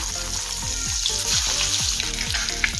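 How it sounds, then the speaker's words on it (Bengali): Boiled eggs rubbed with salt and turmeric fry in hot mustard oil in a heated wok, a close, steady sizzle and crackle under a low background hum, heard alone. "তেল গরম হয়ে গেলে দেবো নুন হলুদ মাখিয়ে রাখা সেদ্ধ ডিম।"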